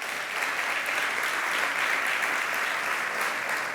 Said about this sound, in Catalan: Un fort aplaudiment per tots ells.